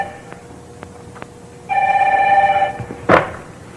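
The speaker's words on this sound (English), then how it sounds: "You going to answer your phone?" A telephone rings in a video game, a single sustained electronic ring tone held for about a second over quiet room tone, preceded by a few soft knocks and followed by a short sharp thud.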